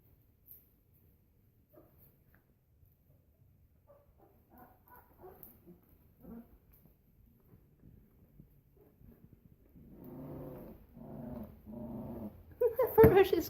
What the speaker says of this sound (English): She's a little growl.